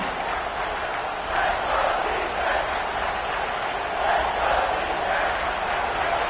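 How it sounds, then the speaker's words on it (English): A football stadium crowd roars at fever pitch before a third-down play in the red zone, a dense, sustained wall of cheering that swells and holds for several seconds. "Third down play in the red zone, and this crowd is at fever pitch."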